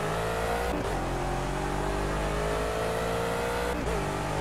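Gumpert Apollo S race car in Project CARS accelerating hard from near standstill with wheel spin, a loud sustained engine roar climbing in pitch, with two quick gear-change dips and no talk.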